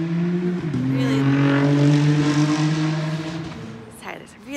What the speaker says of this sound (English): there's a really loud car that just went by